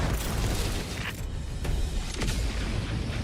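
Enemy artillery shells land nearby on Cyberstan in Helldivers 2, giving a dense, continuous roar of blasts and rumble with a few sharper impacts cutting through.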